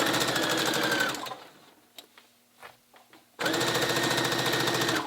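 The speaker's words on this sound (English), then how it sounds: "we start with a regular size stitch, and we start at the bottom and we go all the way down" A sewing machine stitches a seam on a waistcoat in two loud, rapid runs of close, rhythmic needle clatter, separated by a quiet pause with faint handling clicks.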